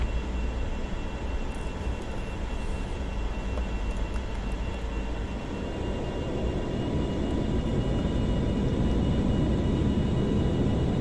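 An airliner in Flight Simulator 2004 roars through its takeoff roll at Kuwait, a loud, steady engine rumble and broadband rush that builds gradually with no pauses.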